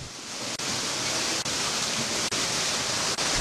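Batee Meucanang waterfall in South Aceh roars as a loud, steady broadband rush of falling water, unbroken and close, with no voices.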